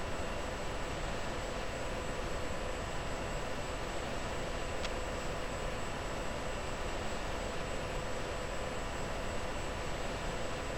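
Jet engines of a tanker aircraft in the Falcon BMS flight simulator give a steady, loud, broadband roar that stays even from start to finish.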